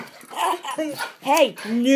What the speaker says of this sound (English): You're a bad dog.